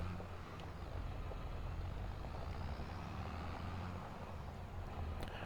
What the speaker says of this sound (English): Glad I left the skid steer over here